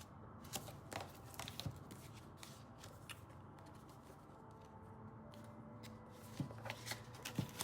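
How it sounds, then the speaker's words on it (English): A thick deck of playing cards being shuffled, with repeated crisp riffling bursts and soft papery slides coming in uneven waves, close and fairly quiet throughout. "mix the cards in"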